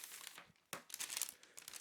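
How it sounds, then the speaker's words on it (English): A clear plastic bag from a Spigen Liquid Air phone case package is handled up close, giving quiet crinkles and sharp rustling bursts with brief pauses between. "let's go ahead and remove the contents from this clear plastic bag"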